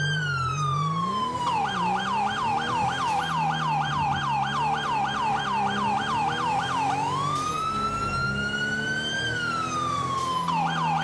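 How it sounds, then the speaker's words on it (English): Police car sirens in the GTA video game wail loud and continuous, switching from a rapid yelp to a long rising-and-falling wail and back, with a faint vehicle engine underneath and no talking. "I wish we could have our custom sirens still on the server."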